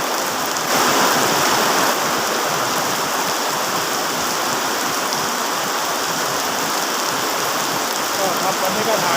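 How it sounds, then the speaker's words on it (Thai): Heavy rain pours steadily while driving, a dense hiss of drops drumming on a surface, constant and close throughout. "ขับคนเดียวฝนตกตกแรงเอาเรื่องเหมือนกัน"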